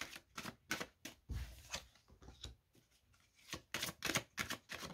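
Tarot cards shuffled and drawn one by one, heard as a string of crisp, close card riffles and snaps in uneven bursts across the whole stretch, with no voices.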